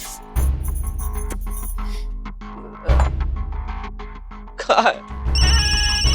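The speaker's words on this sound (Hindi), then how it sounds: "अरे अम्मा का फोन आ रहा है, 10 बार फोन आ चुका उनका" A telephone rings in bursts amid rustling and thumps, loud and close, with a final ringing stretch at the end.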